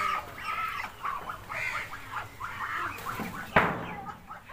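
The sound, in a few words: ducks calling on a farm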